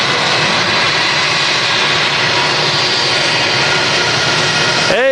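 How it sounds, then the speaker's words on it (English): A British Airways Airbus A319 landing at Manchester Airport after a flight from London Heathrow, loud steady jet roar filling the whole stretch, with a sudden sweeping tone at the very end. "The BA A319 just touched down from London Heathrow."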